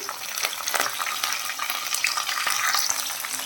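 Green chillies and curry leaves frying in hot oil alongside garlic, giving a dense, crackling sizzle with scattered spits and pops, close and steady throughout.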